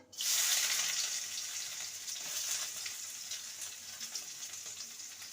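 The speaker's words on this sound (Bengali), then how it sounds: "ফোড়নটা ভাজা হয়ে গেছে এবার দিয়ে দেবো কুচনো পেঁয়াজ" Chopped onion hits hot mustard oil with whole cumin in a kadai, bursting into a loud hiss that settles into a steady, close sizzle with faint crackles over five seconds, no talking.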